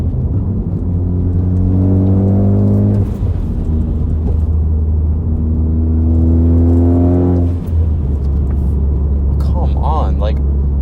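A Ford F-series truck's engine pulls hard in a steady low rumble, its pitch rising through two long acceleration runs with a short dip between them and a brief hiss near the end, heard close from inside the cab.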